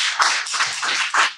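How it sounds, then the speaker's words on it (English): A small audience claps briefly at a live podcast taping, a short burst of close hand claps that swells and fades within a second or so. "Give him a round of applause."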